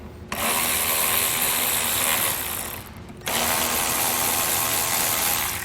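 A power driver removes T25 Torx screws from the front grille of a 2014 Volkswagen Jetta in two loud, close bursts of whirring and ratcheting, separated by a brief pause.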